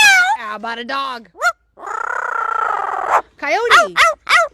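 A parrot imitates a cat with a string of wavering, nasal meows in short bursts, interrupted by a longer buzzy squawk, loud and close.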